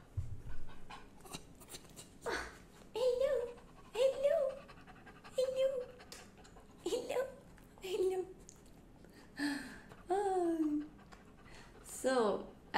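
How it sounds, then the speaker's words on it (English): A tired puppy pants nearby in short, breathy bursts that repeat irregularly, with soft whimpery squeaks mixed in. The level is fairly quiet. "I got a puppy."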